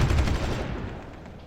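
Artillery and gunfire in the strategy game Supreme Ruler Ultimate, a dense, continuous rumble of distant shelling and crackling shots that slowly fades over a second and a half.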